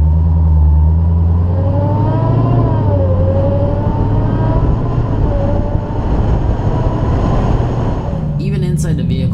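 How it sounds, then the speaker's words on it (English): A supercharged 2018 Dodge Challenger SRT Hellcat engine revs hard under acceleration, with a rising supercharger whine climbing over the loud, steady drone of the motor. "inside the vehicle while you accelerate, you hear that supercharged whine"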